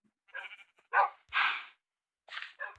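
Several short dog vocalizations, whiny yelps and barks, come in bursts separated by brief silences, fairly close by.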